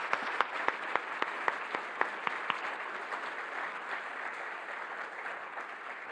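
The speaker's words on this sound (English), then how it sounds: "A big applause for the panel." Symposium audience applauds the panel at an opening session; a few loud, distinct claps in a steady rhythm lead into a softer, sustained patter of crowd clapping that tapers off.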